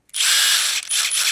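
A Milwaukee M18 cordless impact wrench at speed two gives a loud, harsh, rapid hammering whir, close up and alone, with one brief dip before it picks back up.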